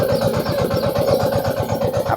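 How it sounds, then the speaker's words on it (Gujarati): A tractor engine runs while building ridges in a field being prepared for brinjal planting, a close, steady chugging with a fast, regular pulse and no talk. "આપણને પોપટભાઈ હવે પાળે બાંધીને દેખાડે છે કે કઈ રીતે આ ટ્રેક્ટરમાં પાળી બાંધે છે."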